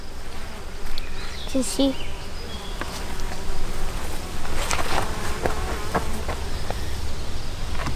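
A busy colony of bees drones steadily around an opened hive during a beekeeping inspection of hatching cells, a continuous close hum with brief clicks and handling noises, while people talk nearby.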